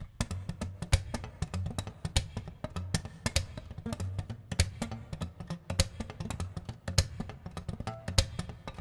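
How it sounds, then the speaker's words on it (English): Rapid percussive clicks from muted guitar strings, tapped in a quick, uneven rhythm with a low muffled thump underneath, close and fairly quiet. "I use my right hand fingers to get all these kind of clicks in between."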